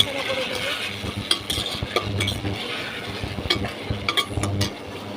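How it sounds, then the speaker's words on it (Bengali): A spoon stirring food in a cooking pot, with repeated scraping and clinking strokes over a soft sizzle, close and moderately loud. "এবার আমরা এটা নাড়াচাড়া করে দেবো।"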